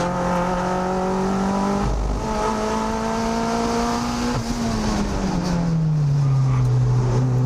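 A Mazda MX-5 race car laps a track at high, steady revs, with a droning engine note that climbs through gears, shifts and then drops as it brakes into a corner. It sounds close and in-car.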